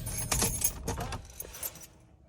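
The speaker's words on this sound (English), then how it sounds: "Let's go ahead and shut off the engine." Keys jangle close by as the engine of a 2006 Mercedes-Benz C230 is switched off, a few metallic clinks and rattles, then near silence as the car goes quiet.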